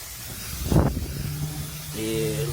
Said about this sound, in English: So let's give it a good coating, spray it all over.